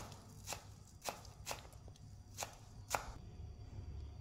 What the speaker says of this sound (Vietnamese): bây giờ em sẽ chuẩn bị cái phần hành lá, em sẽ thái ra, thái nhỏ ra